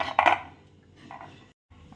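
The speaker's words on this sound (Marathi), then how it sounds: "चला इथं तेल लावून घेते मी इडली पात्राला" Steel idli steamer plates being oiled in a home kitchen, a sharp metallic clink at the start followed by fainter scraping and light knocks of steel on steel.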